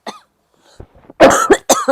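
A person coughs a few times, one faint cough and then a couple of loud, harsh, close-up bursts with short gaps between them.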